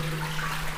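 Water pours continuously at the Tuti Jharna temple waterfall in Ramgarh, Jharkhand, a steady close hiss and splash with an even, unbroken texture.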